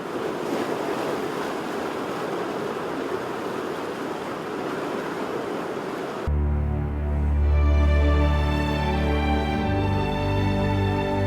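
Strong ocean waves surge onto a Galápagos shore in a loud, continuous roaring wash for about six seconds before music takes over.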